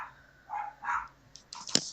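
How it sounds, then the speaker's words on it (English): Dogs at home bark at someone at the door, a few short, muffled, somewhat distant yaps and barks followed by a sharp closer bark at the end. "Just wait for the dogs to stop barking."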